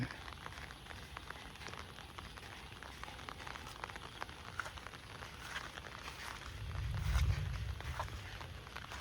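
Rain falls steadily on the ground outdoors among coconut trees, a soft continuous patter with scattered drop ticks, heard alone, and a low rumble swells briefly near the end.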